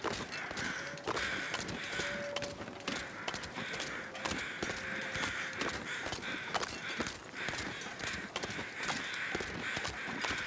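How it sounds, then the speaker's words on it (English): A lot of crows cawing outdoors in a wild territory, with dense, overlapping harsh calls that repeat steadily and stay loud for the whole stretch. "That is a lot of crow noise."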